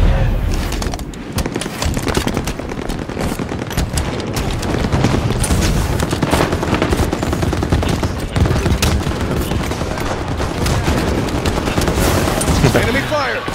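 Enemy weapons fire in a Halo multiplayer match, with dense, continuous bursts of shots and impacts filling the whole stretch at high volume, plus a player's voice talking over the battle.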